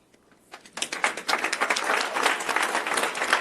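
An audience breaks into applause after a brief quiet moment; the dense, close clapping swells quickly and holds at a steady level to the end.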